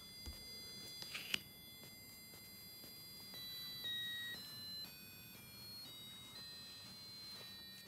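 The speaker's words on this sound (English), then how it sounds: "the closer the ultrasonic is to the object, the higher the frequency gets of the sound." A faint electronic buzzer driven by an ultrasonic distance sensor sounds thin steady tones that step through shifting pitches, quiet against room noise, with a few soft clicks near the start.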